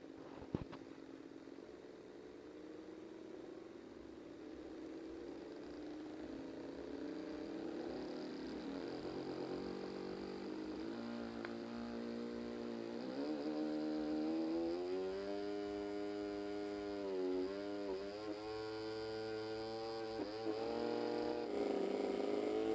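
A homemade brushless DC motor driven by an electronic speed controller, its whine and hum rising steadily in pitch as it spins up. The tone is continuous and fairly close, with no talking over it.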